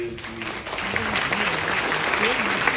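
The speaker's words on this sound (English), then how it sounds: "Can you give them a round of applause" Audience applause at a remembrance concert for guests in yellow outfits, a steady clatter of many hands mixed with a voice speaking over it and some tonal sound underneath, continuous and moderately loud.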